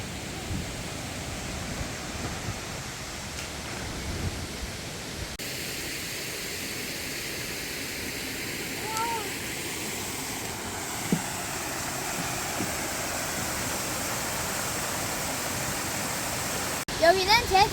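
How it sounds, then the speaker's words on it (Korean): Continuous heavy rush of a waterfall, a constant broad roar with faint distant voices occasionally surfacing beneath it. "남폭포, 잠룡폭포예요."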